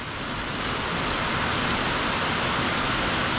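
A downpour of heavy Florida rain makes a dense, even wash of hissing patter that swells slightly at the start and then holds steady and loud.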